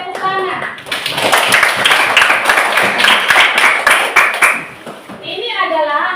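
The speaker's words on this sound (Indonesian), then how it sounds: "Oke, sekali lagi kasih tepuk tangan." Enthusiastic applause from a group in a classroom or hall, many hands clapping loudly and densely for several seconds before fading, with voices heard briefly at the start and end.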